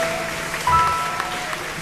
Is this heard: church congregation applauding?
yes